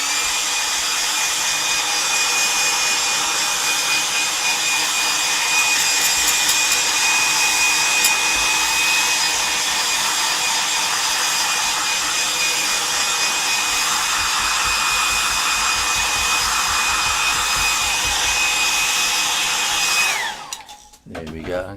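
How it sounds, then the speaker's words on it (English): A loud, steady hair dryer roars continuously with a constant whine, then cuts off abruptly near the end. "hairdryer."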